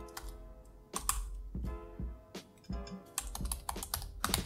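Rapid keystrokes on a computer keyboard as terminal commands are typed on an Ubuntu system, close and clear, in uneven bursts with short pauses and no talking.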